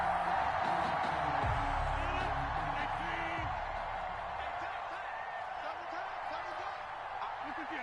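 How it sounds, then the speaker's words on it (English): A stadium crowd in a Madden football video game cheers and whoops after a missed field goal kick, a broad roar that is strongest at first and then slowly fades under commentary. "And the crowd went wild."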